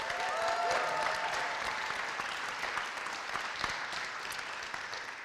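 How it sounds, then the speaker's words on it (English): Applause from a poetry festival audience fills the room as a steady, fairly quiet wash of many hands that fades slightly toward the end. "Let's give a round of applause for the Poetry Festival."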